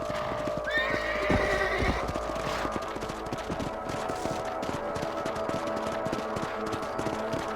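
Horses in the video game Red Dead Redemption, a loud whinny near the start, then a steady rhythmic clip-clop of hooves over an ambient background.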